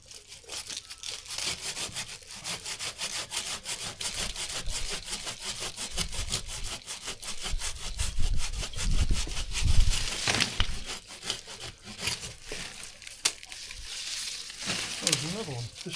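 A hand saw cuts through wood while branches are pruned, with quick rhythmic back-and-forth rasping strokes close by that continue steadily, growing rougher and heavier midway.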